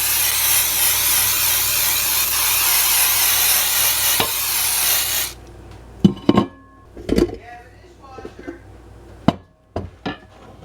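Cooking spray hisses into a bundt pan for a Kentucky butter cake: one steady, loud spray lasting about five seconds, then silence broken by a few light clanks and taps from the pan.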